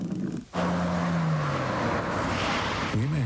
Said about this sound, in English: The Volvo 850 GLT.